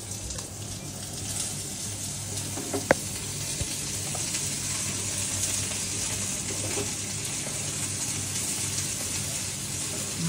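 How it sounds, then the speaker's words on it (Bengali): Sliced okra slides into a hot pan with browned onions and chilies, producing a continuous bright sizzle of frying oil with one sharp utensil clack partway through. "এই যে এখন আমরা আস্তে আস্তে করে এই যে ভেন্ডিটা ছেড়ে দেব।"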